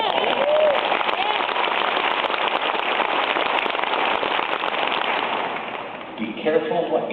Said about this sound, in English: Be careful what you clap for